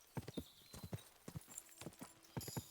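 Horse hooves clip-clopping in the video game Kingdom Come Deliverance 2, a quick irregular run of soft hoofbeats in small clusters, fairly faint and close, with no speech over them.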